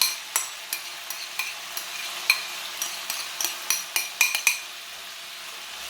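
Kimchi tipped into a hot frying pan with bacon and stirred, a steady sizzle under a run of sharp utensil scrapes and clinks against the pan, irregular and close.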